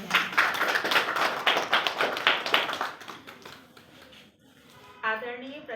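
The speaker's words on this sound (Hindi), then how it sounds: "हम सभी शिक्षक शिक्षिकाएं उनका हार्दिक वंदन और अभिनंदन ताली बजा के करते हैं।" Teachers clap in welcome for a principal at a senior teachers' honoring ceremony, a fairly small group giving brisk, uneven claps that fade out after about four seconds, followed by a brief sound near the end.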